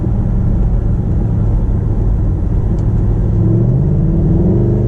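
Mercedes SLS AMG engine heard from inside the cabin while driving at low speed in a high gear, a steady loud low rumble with a gentle rise in pitch toward the end.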